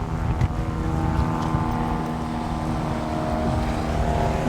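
Strong wind gusting at an ocean pier near a parking lot, a loud steady low roar buffeting the microphone for several seconds, with no talking.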